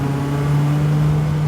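A Rezvani Beast, a lightweight sports car, accelerating hard, a loud continuous engine roar with a steady low tone close by and no talk.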